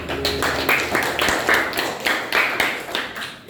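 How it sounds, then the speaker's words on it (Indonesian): A classroom of students claps together, a quick patter of many hands with rhythmic bursts close by, running steadily for a few seconds under faint voices. "Tepuk tangan ya"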